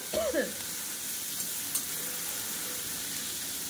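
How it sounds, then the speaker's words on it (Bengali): Onions and potatoes frying on a home stove: a soft, steady sizzle heard faintly and continuously, with a short tonal sound at the very start. "আর উনুনে হচ্ছে পেঁয়াজ আলু ভাজা"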